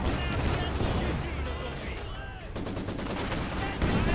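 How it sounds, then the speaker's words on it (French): A rifle grenade fired in the Company of Heroes 2 video game, part of dense, loud battlefield gunfire and blasts that continue throughout, with a voice talking over it. "Petite grenade à fusil là-dessus"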